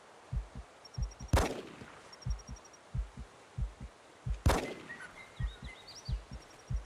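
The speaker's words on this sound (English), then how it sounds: "We got a shot off on it." Two sharp, loud rifle shots ring out at a cape buffalo in Cabela's Dangerous Hunts, each with a ringing tail. A steady thumping heartbeat pulses low underneath throughout.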